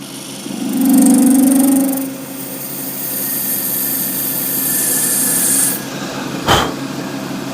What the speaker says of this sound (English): I'll speed the lathe up and we'll part this off.